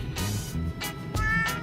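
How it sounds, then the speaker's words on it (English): A cat meows several times in a row, short nearby calls at an uneven rhythm over under two seconds, with no talking during the meows. "Oh, look at the cat."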